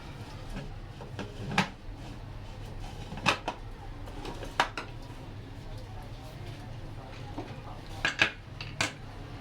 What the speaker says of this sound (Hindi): अब हमने लगाना है प्रेशर कुकर